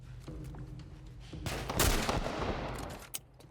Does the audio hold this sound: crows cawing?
no